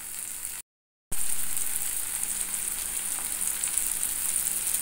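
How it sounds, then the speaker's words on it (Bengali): Chopped tomato frying with onion in a pan, a loud, even hiss and crackle of sizzling oil that cuts out briefly near the start, then resumes and continues steadily. "এবার টমেটো কুচিটাকেও পেঁয়াজের সঙ্গে হালকা করে ভাজতে হবে।"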